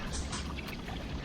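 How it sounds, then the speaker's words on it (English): A winter waterfall on a rugged trail in Shades State Park, Indiana, gives a steady, broadband rush of falling water that fills the whole short stretch evenly, with no voices over it. "our first waterfall"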